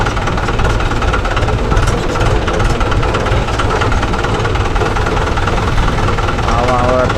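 A Mahindra Yuvo Tech Plus 585 4WD tractor runs out on a field fitted with a rotavator, its diesel engine throbbing loudly and steadily close by, with a voice speaking over it.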